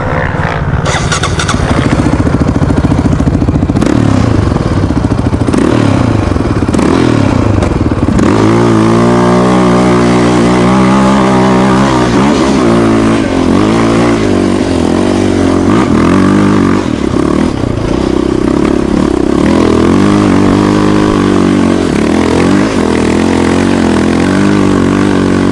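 A Yamaha Raptor quad bike engine starts with sputtering, then revs loudly and continuously in gear, its pitch climbing and falling as the throttle changes, with wind noise throughout.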